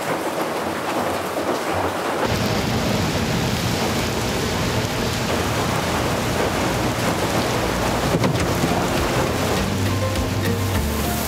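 A rain and thunderstorm: heavy rain pours loudly and steadily as a dense, continuous hiss with low rumbling beneath, after a brief quieter moment at the start.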